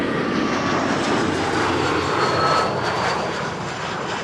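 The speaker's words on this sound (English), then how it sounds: "This is KLM flight 1070 arriving from Southampton. Another Embraer 175." A KLM Embraer 175 jet arriving at Amsterdam Schiphol Airport gives a loud, steady broadband engine roar that swells slightly midway and holds throughout, with no talk over it.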